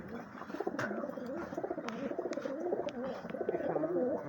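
Pigeons kept at a Bangladeshi home coo in soft, repeated rolling calls, several birds overlapping close by, with a few faint clicks and flutters and no talk.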